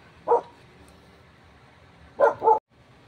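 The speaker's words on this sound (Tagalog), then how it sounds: "Yung namang mga aso ang ingay-ingay" A dog barks once, then twice more in quick succession a couple of seconds later, moderately loud against quiet background.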